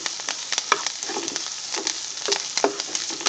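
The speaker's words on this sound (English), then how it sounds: "Now we're going to add the green chilies, ginger and the garlic. Saute this till it's golden brown." Green chilies, ginger and garlic sauté in hot oil in a pan, a steady crackling sizzle with irregular pops and stirring ticks, close and moderately loud with no voices.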